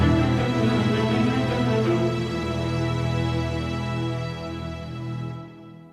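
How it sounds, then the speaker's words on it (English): Layered orchestral string sample patches, with violins, violas and celli playing legato lines together, sustain a dense, loud chord texture for about five seconds before cutting off and fading to silence near the end. "we've got the violins playing this line here, with the violas here and the celli here"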